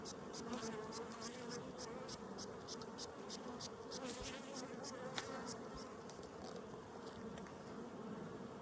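Honey bees buzz around a hive in Colorado, a dense continuous hum from many insects close by, with occasional sharp ticks and clicks.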